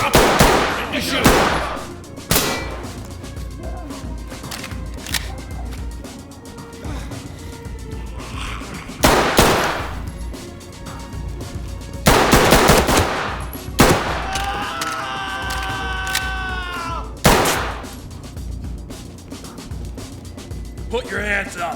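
Shotgun blasts in the tactical shooter Ready Or Not, several loud, sharp shots spaced seconds apart, while voices shout commands between them.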